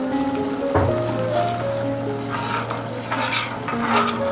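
Tamarind water is poured into a boiling vanjaram fish curry, heard as close bubbling and sizzling with light splashes and a steady simmer underneath.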